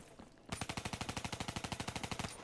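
Sustained automatic gun fire in Call of Duty, a fast regular rattle of close, loud shots starting abruptly after a quiet moment and running for about two seconds.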